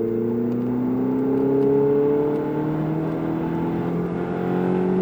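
A Ferrari engine accelerates, its droning tone climbing steadily in pitch over several seconds, heard loud and close from inside the car, with no voices.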